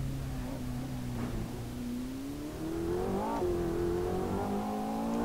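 A race car engine in Assetto Corsa holds a steady drone and then climbs in pitch as it revs higher toward an 8,000 RPM limit, continuous and fairly near, with no talk.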